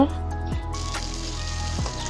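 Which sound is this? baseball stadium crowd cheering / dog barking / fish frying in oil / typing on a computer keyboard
fish frying in oil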